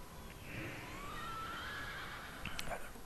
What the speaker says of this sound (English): Pretty badass little horse there.